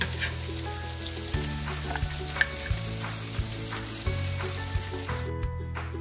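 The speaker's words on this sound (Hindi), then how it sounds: "चिकन फ्राई हो चुकी है" Chicken frying in a pan gives a steady sizzle with occasional light clicks and knocks, while a quiet tonal hum runs underneath.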